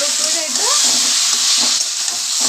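Spiced taro curry stir-fried in a pan, a loud, close, continuous sizzle with scraping stir strokes throughout.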